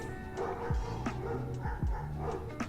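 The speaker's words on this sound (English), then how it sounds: "does the dog barking come through on stream?" A dog barks outdoors, several sharp yips and barks spread irregularly across a few seconds, heard from a moderate distance over a constant background hum.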